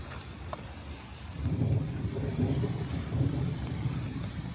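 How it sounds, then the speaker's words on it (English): Steady rain pours during a severe thunderstorm in Brooklyn, New York, a dense broad wash with low rumbling swells and some wind buffeting the microphone, continuous and fairly close throughout. "Still raining."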